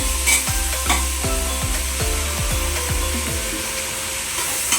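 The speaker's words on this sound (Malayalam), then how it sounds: "ഇനി രണ്ടും കൂടെ കുറച്ച് നേരം ഇങ്ങനെ നമ്മൾ ഇളക്കി വഴറ്റി കൊടുക്കണം തക്കാളി ഉള്ളിയും" Tomatoes and onions are stirred and sautéed in a pan for a cooker biriyani, with repeated scraping strokes over a continuous near sizzle and no voices.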